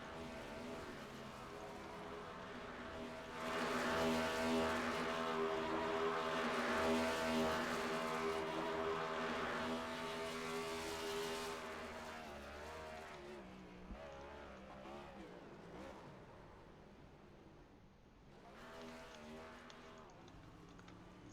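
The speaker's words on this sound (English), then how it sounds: "Cyclones throwing down here and some burnouts all around the track." Next Gen Cup Series race cars in a sim racing game at Sonoma do burnouts and donuts around the track, producing a sustained, droning engine roar that swells and fades with revving, under faint background talk.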